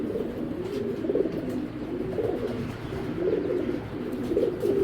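A male tournament pigeon of the Fatullah club breed coos in soft, low, repeated rolling calls at a steady rhythm, close by, with no voices.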